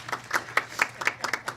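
A few people clap for a speaker at a community policy forum, sparse and uneven claps spaced about a quarter second apart, close by and short, with no voices over it.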